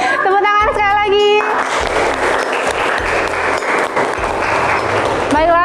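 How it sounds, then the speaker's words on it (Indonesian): A classroom audience claps their hands in a dense, loud round lasting several seconds, with voices speaking over it at the start and end. "Tepuk tangan sekali lagi."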